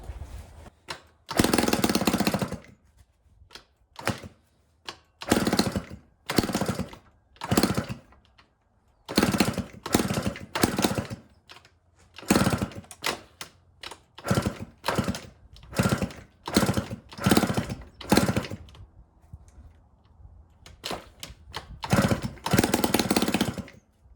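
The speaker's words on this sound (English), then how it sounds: "We took a completely seized up Yamaha Towny, put a new top end on it, and got it to run." Yamaha Towny moped from the 1980s with a freshly rebuilt top end, its small engine revved in repeated sharp bursts that stop and start, loud and close, with silent gaps between.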